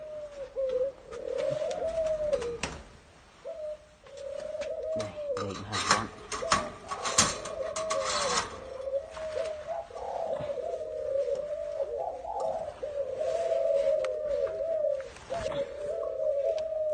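Rock doves coo continuously in low, rolling calls, fairly close, with clattering and rustling noises and some indistinct talk mixed in.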